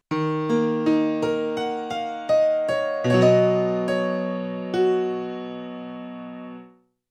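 A NUX NPK-20 digital piano with touch sensitivity off plays a short melodic phrase, every note struck at the same even loudness, ending on a sustained chord that rings out and fades.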